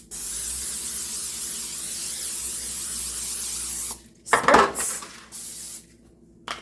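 A long, steady hiss of nonstick cooking spray onto a pan lasts about four seconds, then stops and is followed by a few clattering clinks of the pan.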